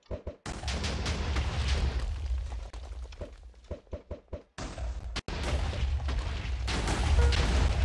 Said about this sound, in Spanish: ¡No lo cargamos con pura explosión, eh!